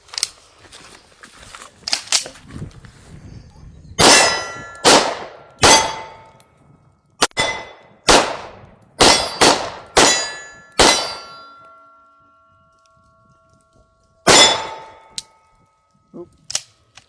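Shots from a Springfield Armory Platypus pistol crack out in irregular clusters, loud and close with a sharp ringing tail, separated by quieter handling noises.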